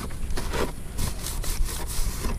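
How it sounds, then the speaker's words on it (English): A rag rubs and wipes over a sanded, cracked ABS plastic car bumper, from the bottom edge, in a series of rhythmic scrubbing strokes, close and fairly loud, with no talking. "Now I'm just gonna wipe it down with the rag from the bottom too."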